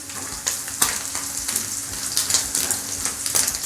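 Liver fries in a pan with a loud, close, continuous sizzle, broken by frequent sharp crackles and pops.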